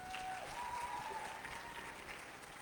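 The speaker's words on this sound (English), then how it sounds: "May we please have another round of applause for Dining with Diamonds, please." Crowd at an entrepreneurs' expo in Botswana giving another round of applause for the Dining with Diamonds act, steady clapping heard at a moderate distance with a faint tone running through it.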